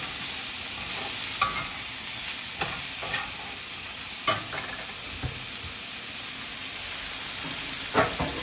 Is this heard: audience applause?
no